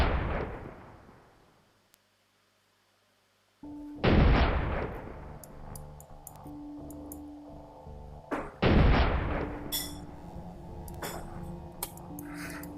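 Booming, echoing gunshots from an animated full-auto gun in slow motion: three heavy blasts spaced seconds apart, each decaying slowly, with metallic clicks and tonal mechanical sounds between them.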